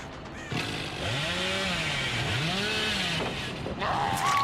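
Hillbilly's chainsaw revving in the Dead by Daylight video game, a loud buzzing whine that rises and falls in pitch in sweeping arcs, sustained for several seconds.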